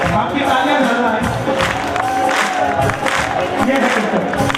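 A large crowd at a Kanhaiya Mittal bhajan gathering claps steadily, with cheers and scattered shouts mixed in, dense and continuous throughout at close range.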